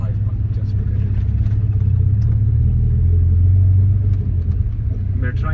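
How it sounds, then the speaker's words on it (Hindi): A car fitted with a 5-puck clutch pulls away slowly in first gear in traffic, a steady low engine rumble and drone that swells slightly and then eases, heard from inside the car. "मैं जब गाड़ी फर्स्ट गियर में मैं आगे लेके जाता हूँ तो ये स्टॉल करेगी"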